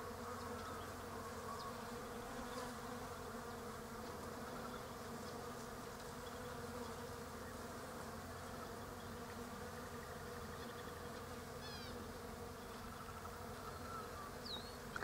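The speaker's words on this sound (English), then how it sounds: "Listen to all the bees." Steady, dense buzzing of many bees fills the air outdoors in an almond orchard, a continuous droning hum with no talking.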